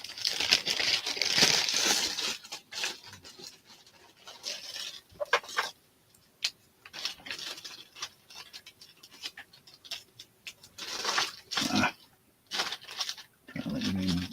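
A plastic bag is handled and crinkled up close at a live vintage auction, irregular rustling bursts with quiet gaps and no talk.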